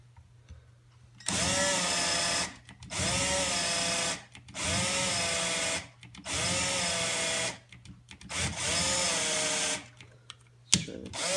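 A power drill bores into a Kydex knife sheath outdoors in freezing cold, running in five loud, sustained bursts of about two seconds each with brief pauses between them, its pitch sagging and steadying within each burst.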